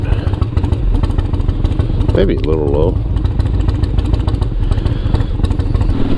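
A Harley-Davidson Shovelhead motorcycle engine idles with a steady, loping rumble close by, while someone talks briefly over it.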